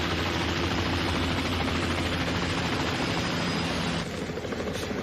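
A helicopter flies steadily over Ventura County toward the mountains, its rotor and engine giving a loud, continuous drone. The sound dips slightly near the end.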